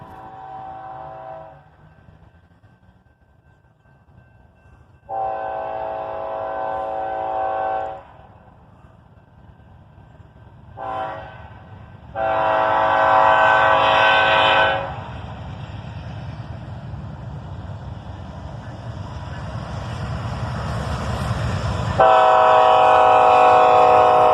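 Freight trains pass through two railroad crossings, seen from a spot a little way back from the tracks: a loud rolling rumble of rail cars runs throughout while a locomotive horn sounds in repeated long blasts, some short and some sustained.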